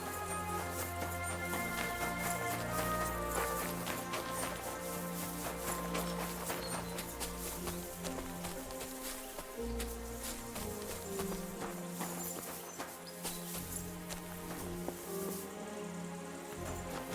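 Horse hooves clip-clop steadily in Kingdom Come: Deliverance II, a dense walking rhythm mixed with insect buzz and ambient layers, with no voices.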